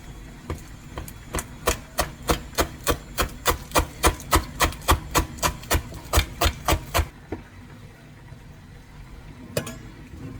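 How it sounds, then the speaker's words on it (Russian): A knife finely chops fresh dill on a board in a quick, steady run of about seventeen close, crisp strokes, then a pause and one last isolated chop. "Нарежем зелень. Тоже очень мелко нарежем."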